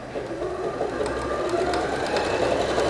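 A Bernette b38 domestic sewing machine runs steadily through automatic decorative stitch pattern 73, a continuous close whirring hum with no pauses and no talk.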